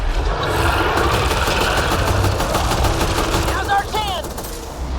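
An orange cannon fires a sustained barrage in Mass Effect Andromeda, a dense, loud run of rapid blasts that holds steady throughout. Faint speech-like tones break in near the end.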